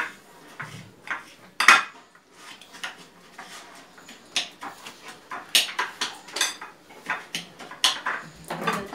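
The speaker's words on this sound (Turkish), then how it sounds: "Biberimizi de doğruyoruz." Sharp knife chops of peppers on a board come in irregular bursts, mixed with clinks of dishes and utensils in a quiet kitchen.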